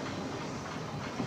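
A Scenic Railway wooden roller coaster train at Dreamland in Margate, UK, rolls along its track with a steady rumbling clatter, continuous and fairly close, with no voices.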